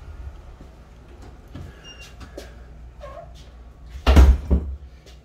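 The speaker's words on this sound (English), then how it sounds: "you have a screen door to come into your entrance porch and then the main front door" Screen door and main front door of a house entrance porch, a quiet creak and light handling early, then a louder bang of a door closing near the end, followed by a second thud.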